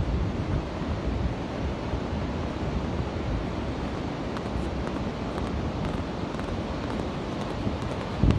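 Waves and wind at a sandy beach in December make a constant, loud broadband roar, with gusts buffeting the microphone throughout.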